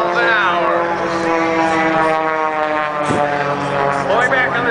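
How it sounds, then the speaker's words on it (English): A stunt plane at an airshow climbs into a vertical roll, its propeller engine droning loudly with rising and falling pitch sweeps, while an announcer talks over it. "Pulling back on the stick, climbing into the vertical now, Major John Clack"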